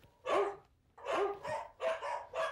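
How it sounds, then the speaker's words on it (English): A dog barks sharply behind a fence in four loud, close barks with brief gaps between them. "there's voices barking right on the other side of that fence"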